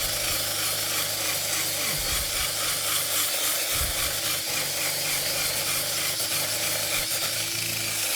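Coarse rasp worked over the outer wall of a horse's hoof to strip dirt and roughen it before gluing on an Easyboot Fury shell, a steady continuous scraping close up with no talk.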